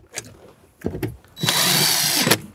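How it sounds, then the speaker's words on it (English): A power drill drives seven millimeter screws into a 2011-2018 Jeep Wrangler JK dash, a few short handling clicks and taps followed by one close, loud, steady whir lasting about a second. "Now we can go ahead and reinstall our seven millimeter screws onto our dash."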